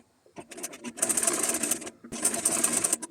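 Sewing machine stitching pinned fabric leaves together for a traditional khan-cloth toran, running in two long loud bursts separated by short pauses, close up with no talk.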